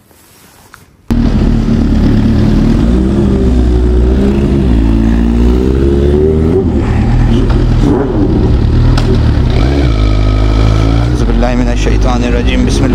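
Kawasaki H2 and Suzuki GSXR motorcycles on a night track, engines starting abruptly after a quiet moment and then droning loud and steady with revving swells, close by, with people talking throughout.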